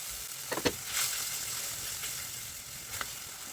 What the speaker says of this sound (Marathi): ह्याच्यात आपल्याला चिंचेचा कोळ ॲड करायचा आहे